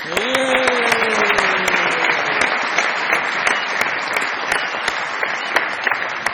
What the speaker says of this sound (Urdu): بہت ساری تالیوں میں محمد علی صاحب آئیے